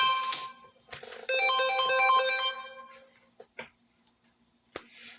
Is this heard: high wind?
no